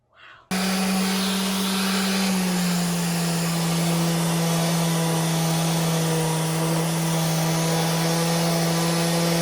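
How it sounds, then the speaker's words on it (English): A sander runs together with an attached shop vac during log home wall maintenance: a loud, steady motor whine and airflow roar starts abruptly after a brief moment and holds evenly throughout, with no talk. "shop vac attached right to your sander, turn on the shop vac, and voila, zero dust"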